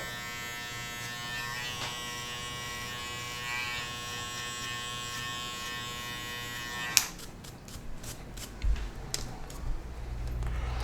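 An electric hair clipper fitted with a comb guard buzzes steadily close up while cutting a flattop, then switches off partway through, leaving a few soft handling clicks and rustles.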